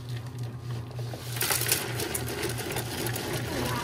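A Zojirushi bread machine mixing dough whirs with a steady motor hum and rhythmic churning, growing slightly louder and busier as the dough mixes.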